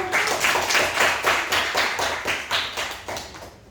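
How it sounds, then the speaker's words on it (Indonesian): A classroom group claps together in a steady rhythmic burst of hand claps, close and fairly loud, with no talking over it. "Oke, tepuk tangan dulu."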